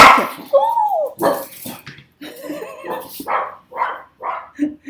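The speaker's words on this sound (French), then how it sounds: "Les chiens, la voiture qui passe dans le champ, Maya elle aime pas ça." Several dogs bark in short, uneven bursts, close and fairly loud, with a few higher yips and whimpering tones mixed between the barks.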